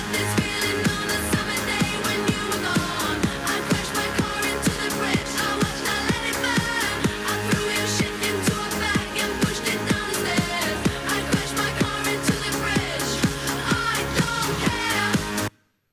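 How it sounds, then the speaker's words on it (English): An Icona Pop pop record with a four-on-the-floor EDM beat plays loud and continuous, with punchy kick hits, bright synths and vocals that hold throughout, then stop abruptly at the end. "This is what a pop record sounds like this year."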